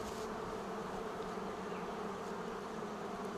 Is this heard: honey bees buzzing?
yes